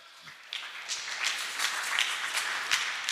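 A congregation at a church service claps in scattered, uneven bursts, moderately loud and slightly distant, with no clear cheering.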